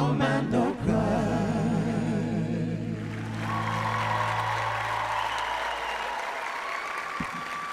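Audience applause for a singer at a live concert, a dense crowd clapping steadily under fading music that trails off over several seconds.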